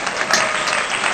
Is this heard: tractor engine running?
no